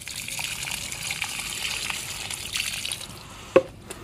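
Water pours and splashes onto garden flowers in hot sun, a soft steady gush with a sharper splash near the end.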